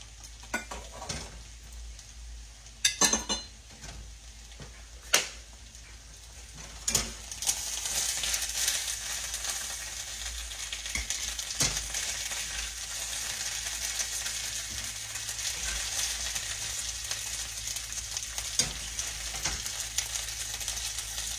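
Chicken livers frying in a pan, a steady hiss of sizzling oil that swells louder partway through, broken early on by a few sharp clacks of utensils against the pan.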